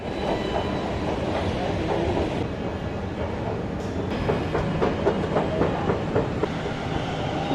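Metro train passing nearby, a loud rolling rumble with rhythmic clickety-clack of wheels over rail joints and occasional faint squeals, steady throughout.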